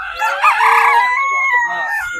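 At a farm market, a rooster crows loudly and close by in one long drawn-out call, with hens clucking faintly around it.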